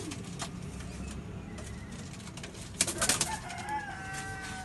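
Pigeons kept by fanciers in Faisalabad coo softly at a distance over an outdoor background hum, with a few brief louder bird calls partway through.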